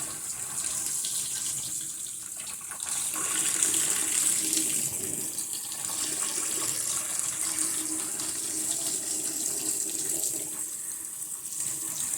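Tap water runs steadily and close up as hair is rinsed under it, a continuous hissing splash with slight shifts in the flow, with no one talking.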